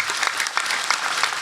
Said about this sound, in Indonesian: Sekali lagi tepuk tangan buat diri Anda.